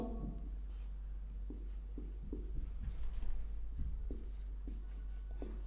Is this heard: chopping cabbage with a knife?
no